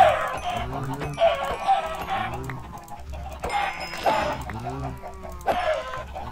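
Chickens cluck in Minecraft, a few short squawky bursts repeating across the stretch over a low background hum, fairly close and moderately loud, with no talking.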